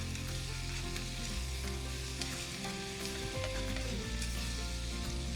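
Sukiyaki-style meat frying with mirin and plenty of sugar at a rainy campsite, a steady, close sizzle that holds at the same level throughout.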